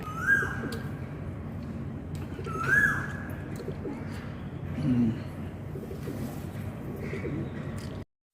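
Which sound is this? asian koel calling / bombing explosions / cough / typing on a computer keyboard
asian koel calling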